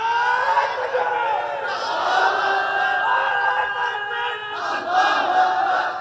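A large crowd at an Islamic religious sermon shouts the takbir together, a sustained, loud roar of many voices that swells again near the end.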